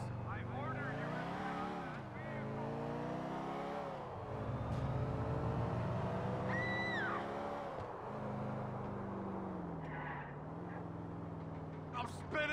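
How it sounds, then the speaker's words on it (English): A car in GTA IV spins out while fleeing police, its engine revving and pitch sweeping up and down, tires squealing and sirens wailing in the background for several seconds, with voices shouting over the chase. "I'm spinning out, man!"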